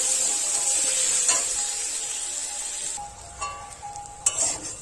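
Fish heads frying in spiced masala in a pan sizzle loudly and steadily, with scraping stir strokes and light clinks that get sparser and quieter near the end.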